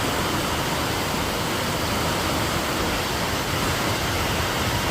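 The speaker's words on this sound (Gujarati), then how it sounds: "નવસારીમાં ધોધમાર વરસાદ ચાલુ થઈ ગયો." A torrential downpour in Navsari pours down as a constant, loud, even roar with no pauses and no voices.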